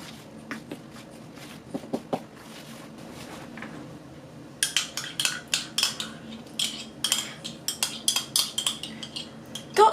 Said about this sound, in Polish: i mieszam na razie widelce